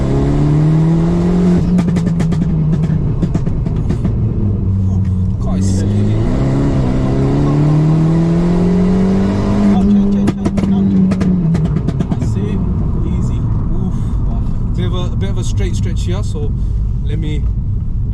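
A 2009 Abarth 500 Stage 1+ with a manual gearbox drones loudly from inside the cabin on country lanes, its engine pitch climbing and dipping through gear changes, with someone talking over it throughout.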